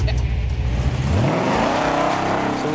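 Chevy S-10 truck with uncorked exhaust accelerating hard at an eighth-mile drag strip, a loud rising engine roar climbing steadily through the revs, close and continuous for the whole stretch.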